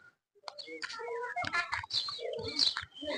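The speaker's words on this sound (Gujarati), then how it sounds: "ચાલો કબૂતર ખોલી એટલે ચણી દઈએ" Domestic pigeons give close, overlapping coos and soft chirping calls in quick succession, fairly loud and steady, with no talk.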